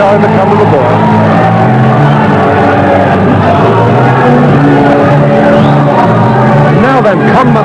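A boxing arena crowd roars and cheers continuously and loudly for a fighter heading to the ring, a dense wall of shouts and whoops with a commentator talking over it throughout.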